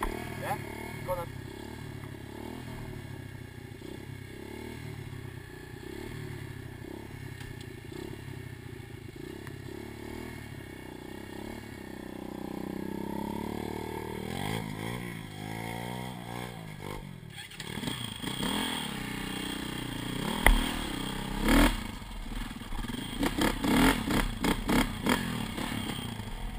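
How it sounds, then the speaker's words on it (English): A motorcycle out greenlaning in the woods revs as the clutch is let out slowly, the engine note rising and wavering before clattering, bumpy movement sounds take over, with people talking quietly nearby. "Rev and let the clutch out slowly."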